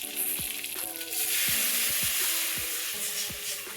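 Rasam on the stove with tamarind water and omavalli leaves: a sizzling mixture stirred in a pan, with a steady loud hiss and repeated scraping strokes of the spoon, no voices.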